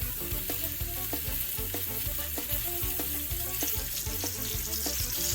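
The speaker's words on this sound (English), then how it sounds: "I want that nice sizzle." Avocado oil sizzles steadily and loudly in a frying pan for blackened salmon, a dense crackling hiss with a rhythmic low scraping or stirring underneath throughout.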